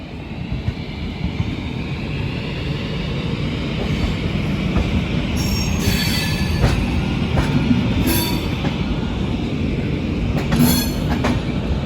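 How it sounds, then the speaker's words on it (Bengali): Indian railway train running steadily with continuous wheel rumble and rail clatter, occasional faint squeals, next to Amrit Bharat Express trains; loud and close throughout, no voices. "দুটো অমৃত ভারত এক্সপ্রেস একই সাথে পাশাপাশি।"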